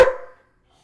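A single short dog bark sound effect snaps out close and loud, then fades quickly into silence.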